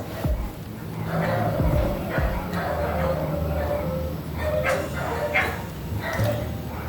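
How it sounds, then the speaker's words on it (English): Dogs bark and yip in scattered bursts at a distance, beneath a steady background hum and a voice talking. "You can hear the dogs barking."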